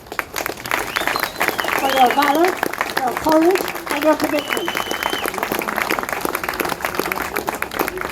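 Crowd clapping at an outdoor cost of living demonstration in Cork, sustained applause under an amplified speaker's voice.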